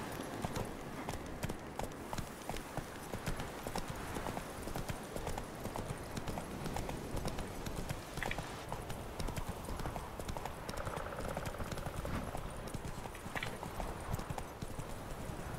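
Roach, the horse in The Witcher 3, gallops in a steady rapid clip-clop of hooves on the ground that continues throughout, with game ambience and a brief whinny-like sound underneath.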